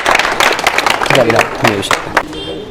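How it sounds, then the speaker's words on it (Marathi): Applause from a classroom audience at an MPSC exam-prep study hall in Amravati, a steady patter of clapping mixed with a voice talking loudly over it. "जोरदार टाळ्या"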